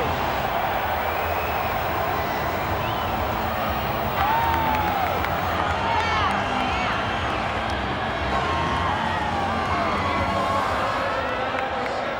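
Large stadium crowd at a 2006 Tri-Nations rugby league match between Australia and New Zealand roars steadily after a successful field goal, a dense sustained wash of cheering with scattered shouts.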